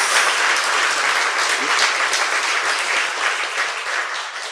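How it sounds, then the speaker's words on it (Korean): Sustained applause from an audience, dense clapping that stays loud and even throughout before easing slightly at the end. "박수 부탁드립니다"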